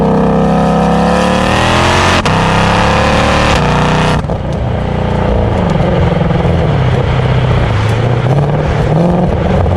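A 2021 Ford Mustang Shelby GT500 accelerating hard at light throttle, its loud engine note rising steadily through the gears with quick, smooth upshifts, then settling into a lower, rumbling drone.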